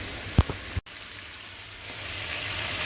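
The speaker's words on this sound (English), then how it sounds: "You can hear everything frying" Smothered turkey necks frying in a pan with water added, giving a steady soft sizzle with a few sharp pops and clinks early on.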